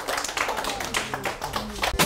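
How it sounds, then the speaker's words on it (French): Scattered clapping from children at a school read-aloud contest, loose and uneven taps with some voices mixed in, fairly close. "on l'applaudit très fort."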